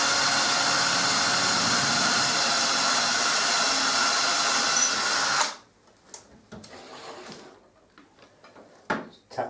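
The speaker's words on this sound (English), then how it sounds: "I've got a wood bit on the end of my drill and slowly started putting some holes in." A drill fitted with a wood bit bores holes into a wall, a loud steady whine that runs close for several seconds, then stops, leaving quiet handling sounds and a few sharp knocks.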